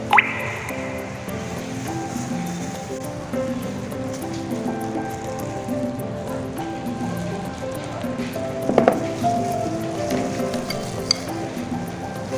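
A mixture of condensed milk, mayonnaise and a squeeze of lemon is poured and dripped in a kitchen, with soft wet trickling over steady background music and a few small clinks.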